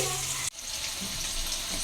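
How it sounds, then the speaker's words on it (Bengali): Pieces of paneer frying in a pan make a continuous close sizzle, broken by a brief dip near the start before the hiss resumes evenly. "তা এখন পনিরগুলো ভাজা চলছে"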